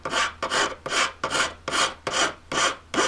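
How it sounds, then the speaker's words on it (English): Steel file rasping across the edge of an emerald-cut bezel setting in regular back-and-forth strokes, seven close, loud passes with brief gaps between them and no talking. "so you can see the way you're filing it exactly"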